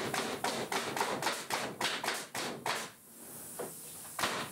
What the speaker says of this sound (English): it is firing in nails extremely quickly